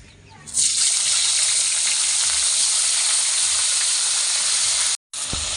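Cauliflower florets seasoned with salt and turmeric hit hot oil in a Bengali home kitchen, bursting into a loud, steady sizzle that holds nearly unbroken, with one brief cut before the frying resumes.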